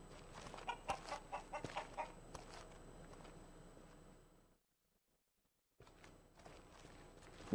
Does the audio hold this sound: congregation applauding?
no